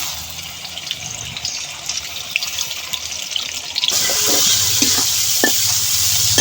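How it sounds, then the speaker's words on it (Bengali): Shrimp coated in salt and turmeric drop into hot oil and start frying, a quiet stirring rustle giving way to a loud, steady sizzle with small pops close by. "লবণ হলুদ মাখিয়ে দিয়ে দেবো তেলের উপরে"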